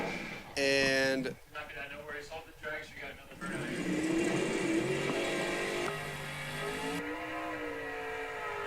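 A drag racing dragster engine roars and revs with a rising, droning pitch at a drag strip, carrying steadily under a continuous announcer's voice.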